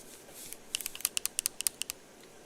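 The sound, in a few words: typing on a computer keyboard with long nails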